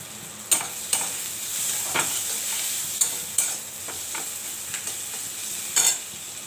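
Nigella seeds sizzle steadily in hot oil with salt, while a spoon stirs and scrapes the pan in sharp, irregular strokes over a continuous close hiss.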